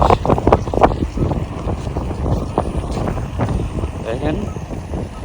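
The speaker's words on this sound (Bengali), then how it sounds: "আর রোডে কিন্তু প্রচন্ড বাতাস।" Strong wind buffets the microphone during a morning bicycle ride along a road, making a loud, gusty low roar that rises and falls continuously while a person talks over it.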